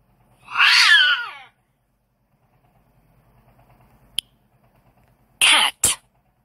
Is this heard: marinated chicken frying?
no